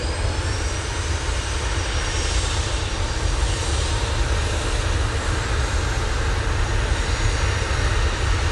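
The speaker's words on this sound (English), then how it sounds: "Right, there's an arrival." An airliner arriving at Manchester Airport: a loud, continuous jet-engine roar holds steady throughout, with no voices over it.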